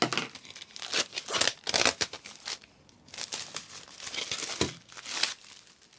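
Close plastic crinkling and tearing in bursts as packaging is pulled open, with brief pauses between handfuls of rustling.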